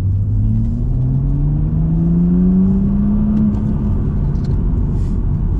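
BMW M3 F80 with a Stage 1 tune accelerating hard, its engine note sweeping steadily upward in pitch through a loud, close, continuous roar with no talk over it.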